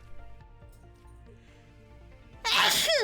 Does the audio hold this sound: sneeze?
yes